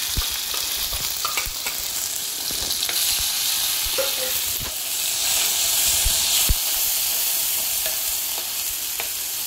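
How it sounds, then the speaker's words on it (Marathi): Crushed spice paste frying in hot oil for a Marathi-style rassa, a steady loud sizzle and hiss with scattered crackles and pops, the pan stirred now and then, no voices. "आपण तेल टाकून घेतलेलं आहे। आता आपण ह्याच्यामध्ये हा ठेचलेलं वाटण आहे ना ते घालून घेऊया।"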